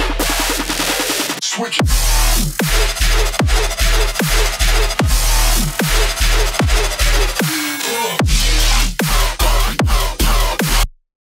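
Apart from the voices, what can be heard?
electronic music track drop from a free sample pack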